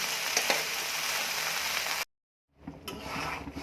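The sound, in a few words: okra (bhindi) frying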